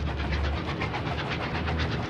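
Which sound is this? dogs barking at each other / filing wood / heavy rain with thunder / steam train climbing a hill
steam train climbing a hill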